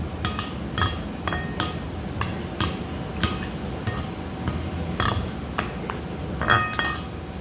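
Cucumber salad tossed in a bowl, with a run of light clinks and taps from a utensil against the bowl at irregular intervals over a soft background hum, near and moderately loud, no talk.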